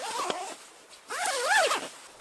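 Zipper pulled closed at a wilderness camp on a solo canoe trip: a short zip, then a longer, louder wavering zip, heard close with no talking.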